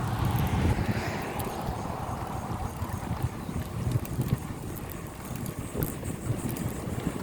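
Steady wind rushing and buffeting against the microphone while bicycling along a beach on Sanibel Island, Florida, a loud continuous roar with gusty swells and no talking.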